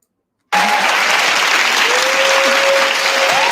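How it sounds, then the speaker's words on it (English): Steady applause from a conference audience at a TEDx talk, dense clapping that starts abruptly and continues loud and even, with a faint whistle-like tone running through it. "Everybody is clapping."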